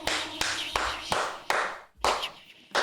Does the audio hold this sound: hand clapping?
yes